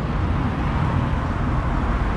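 Steady low road traffic rumble in Cookstown town centre, County Tyrone, a continuous broad drone of passing vehicles with no distinct events, fairly loud and unbroken.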